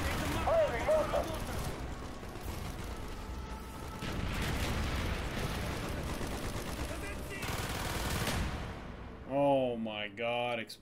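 Exploding barrels in Call of Duty: Black Ops set off dense, rumbling booms mixed with continuous gunfire for several seconds, then a voice speaks near the end.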